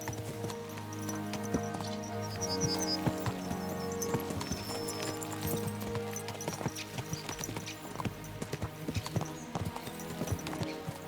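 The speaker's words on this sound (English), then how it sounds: "Let's really spur these horses on, eh?" Horse hooves clip-clopping in a fast, steady galloping rhythm in the video game Kingdom Come: Deliverance II, with an occasional whinny and music playing underneath.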